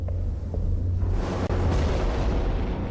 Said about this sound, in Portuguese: Um grande objeto explodiu em Tunguska